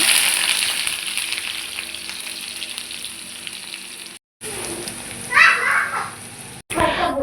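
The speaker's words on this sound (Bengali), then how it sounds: "কড়াইতে সামান্য তেল দিয়ে দিলাম এখন পেঁয়াজ কুচি দেব" Chopped onions hit hot oil in a wok, giving a loud, close frying hiss that continues with brief breaks and a sharper burst of sizzling near the end.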